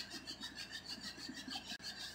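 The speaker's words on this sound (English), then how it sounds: "this is going to be an all-day job, sanding all this down" Steady hand sanding on a 1974 Silver Streak travel trailer, a continuous rhythmic rasping scrape with regular back-and-forth strokes, close and fairly quiet, briefly breaking off near the end.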